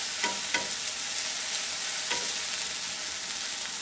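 Ginger, garlic and onion stir-fried together in a pan for a Bengali tilapia dopiaza: a constant close sizzle broken by a few sharp scrapes and knocks of a spatula.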